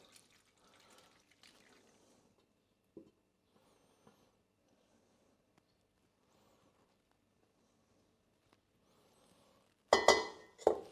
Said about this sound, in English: now I'm pouring all the liquid that I had here in order to filter.